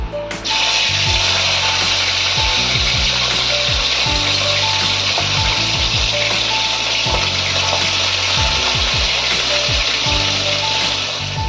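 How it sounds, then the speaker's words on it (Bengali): Small fresh river fish fry in hot oil with a loud, continuous sizzle, and dull knocks and clatters of a utensil move the pieces around the pan; no speech. "বাকি মাছগুলো একইভাবে ভেজে নিচ্ছি।"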